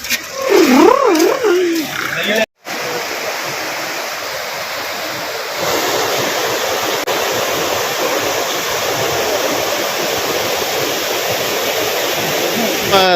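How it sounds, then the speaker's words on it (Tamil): The fast-flowing Pamba river at Sabarimala rushes loudly and continuously, with a brief voice at the start. "இதான் பம்பை நதி பாருங்கள் எவ்வளோ தண்ணி வந்து போயிட்டுருக்கு"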